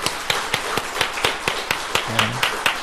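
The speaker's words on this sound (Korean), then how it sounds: "먼저 우리 하나님께 영광의 박수 돌리겠습니다" Steady rhythmic clapping, a church congregation applauding together in regular beats during a Sunday service, fairly close and lively with no talking.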